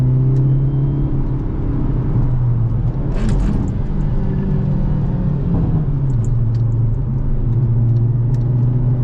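Hyundai Avante N with a manual gearbox, engine held and revved around 4000 rpm, a loud close mid-pitched drone with a brief rising and falling swell, heard from inside the car without talk.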